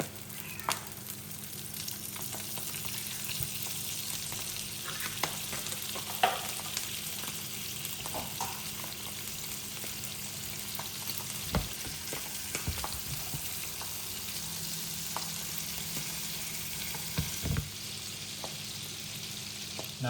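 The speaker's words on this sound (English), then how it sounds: "I'm just going to add some butter to the pan." Butter melts in a frying pan on moderate heat before sea bass is cooked, giving a steady close sizzle throughout, with occasional soft clicks and knocks of the pan.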